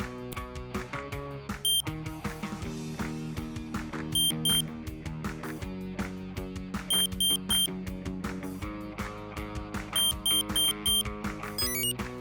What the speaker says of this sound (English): tap and hold your finger on the light sensor until you hear 4 consecutive beeps